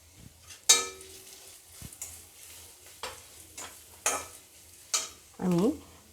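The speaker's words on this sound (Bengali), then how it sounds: "আমার আদাটা, লঙ্কা, জিরে সুন্দর ভাজা হয়েছে। এখন আমি সামান্য একটু হলুদ দেব।" Chopped ginger, chili and cumin fry in oil for a potato patty filling, with a soft sizzle broken by several sharp spoon scrapes and clinks against the pan, close and unaccompanied by talk.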